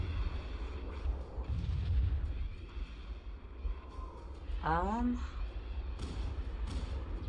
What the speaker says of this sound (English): Try carpet bombing with grenades